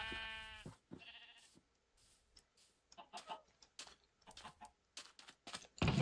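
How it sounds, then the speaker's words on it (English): Sheep bleating in the video game Minecraft, a few clear close bleats at the start, followed by scattered clicks and faint game sounds. "Oh, I have sheep."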